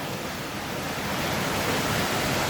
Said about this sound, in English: the water's coming down